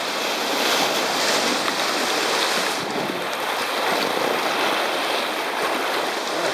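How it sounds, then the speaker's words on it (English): Ocean waves breaking on the Irish coast near An Staca on a foggy day, a steady broadband wash of surf with wind noise buffeting the microphone throughout, no voices. "Oh, still a few waves coming through"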